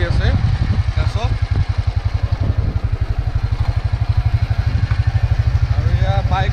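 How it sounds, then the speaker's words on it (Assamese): Motorcycle riding along a village road, its engine a loud, close, steady rapid thumping throughout, with a voice talking over it from the pillion seat. "আৰু এয়া বাইকত আজি মই পিছত বহি পেলাই গৈ আছোঁ"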